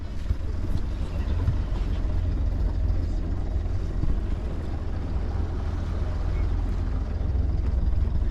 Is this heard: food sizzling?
no